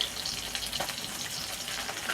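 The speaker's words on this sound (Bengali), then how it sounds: "মাছের এক পিঠ ভাজা হয়ে গেছে দেখো এবার উল্টিয়ে দিচ্ছি অন্য পিঠে" Steady hiss and crackle of small puti fish frying in hot oil, with a brief clink partway through, continuous and fairly close.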